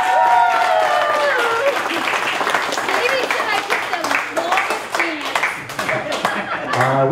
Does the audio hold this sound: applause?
yes